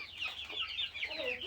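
Chickens and young country chicks cluck and peep in a small 10 by 10 poultry shed, a steady close chorus of overlapping calls with no talk over it.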